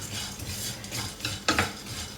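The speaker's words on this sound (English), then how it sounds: "So now we just roast it a little" Red lentils dry roasting in a pan, stirred with a utensil: soft rustling scrapes and light clinks against the metal, quiet and close, with one sharper knock midway.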